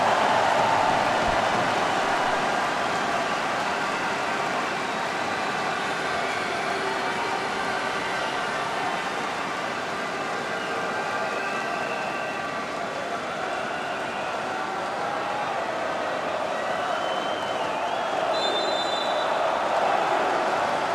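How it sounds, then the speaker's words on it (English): A packed arena crowd cheers at the opening of the Croatia vs Serbia men's handball Euro 2018 match in Split, a loud, dense, continuous roar sustained throughout with no clear voices above it. "Big cheer from the crowd. They're on their feet."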